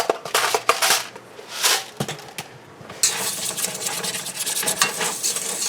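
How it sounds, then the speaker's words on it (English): A whisk stirs sugar, flour and cornstarch together in a bowl for a lemon meringue roll cake, making close, rhythmic scraping swishes that are intermittent at first and then turn into a steady, brisk stirring. "first we are going to whisk together our sugar, our flour and cornstarch,"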